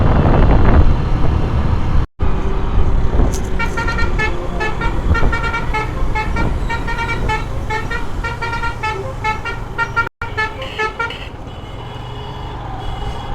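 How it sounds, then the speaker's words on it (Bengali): Traffic noise on the road from a motorbike ride, with a bus horn sounding a long, loud musical multi-tone blare that carries through most of the stretch over engine and road rumble. "বাসের হর্নটা একবার শুনতে পেলে?"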